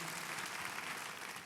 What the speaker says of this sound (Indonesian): Yuk tepuk tangan buat Tuhan Yesus